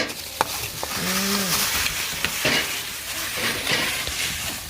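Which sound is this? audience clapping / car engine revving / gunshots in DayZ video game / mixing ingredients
mixing ingredients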